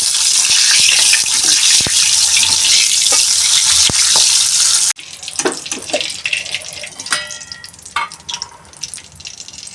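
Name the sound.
chillies frying in oil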